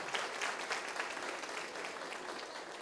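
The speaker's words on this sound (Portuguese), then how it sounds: "Vamos aplaudir, Senhor Jesus." A church congregation at an evening service breaks into applause, a dense, steady wash of many hands clapping that holds at an even level throughout, with no voices on top.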